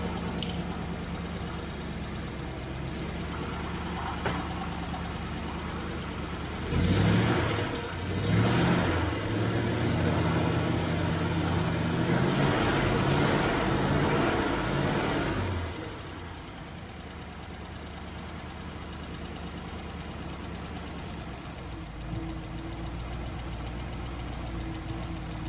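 A Triumph Stag engine with Stromberg CD175 carburettors idles steadily, rising briefly in the middle as it is blipped a few times with rough surging bursts, then settling back to a quieter even idle.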